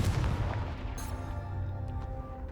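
Confringo blasting spell explosion in Hogwarts Legacy: a deep boom at the start rolls out into a fading rumble with a small crackle, moderately quiet overall.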